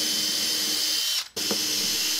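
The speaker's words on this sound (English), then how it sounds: "To attach the fretboard, I drill three holes, alignment holes" A power drill whirs steadily while drilling alignment holes in a wooden guitar fretboard, cutting out briefly in the middle before starting again, close and continuous.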